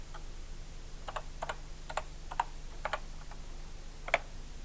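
Keys clacking on a 1983 BBC Micro computer keyboard as a child types a name in a primary school setting: sparse, irregular single and clustered keystrokes, fairly close, over a low steady hum.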